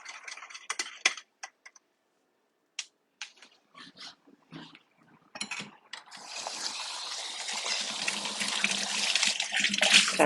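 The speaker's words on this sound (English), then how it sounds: "Sorry about this water running." A kitchen tap runs steadily during coffee-making at home, the water rush starting after scattered clicks and taps and growing louder and continuous toward the end.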